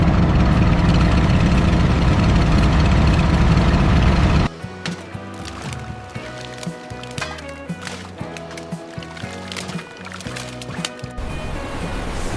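A deep-sea fishing boat's engine drones at sea, a loud continuous low rumble that gives way to a rhythmic chugging idle with sloshing water.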